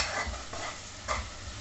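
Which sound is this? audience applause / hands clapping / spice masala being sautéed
spice masala being sautéed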